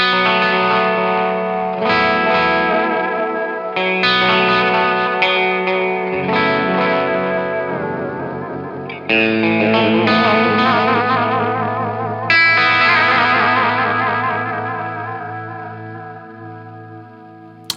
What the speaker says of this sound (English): So if I tweak the depth and speed, you'll really hear that modulation.